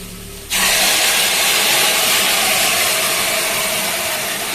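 Tamarind, salt and jaggery water poured onto bitter gourd frying with turmeric. After a brief quiet moment, a sudden loud sizzling hiss of steam bursts out close by and holds steady, easing only slightly.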